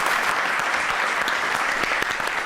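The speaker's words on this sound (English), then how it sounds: "that's why I give you that applause" Steady applause from a studio audience, a thick continuous patter of many hands clapping at a constant loud level, close and uninterrupted with no speech over it.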